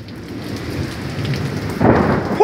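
A heavy thunderstorm pours rain, a dense steady hiss close by with rolling low thunder underneath, growing louder near the end, with no talking.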